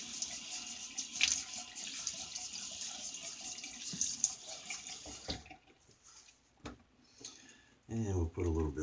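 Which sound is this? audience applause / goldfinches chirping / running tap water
running tap water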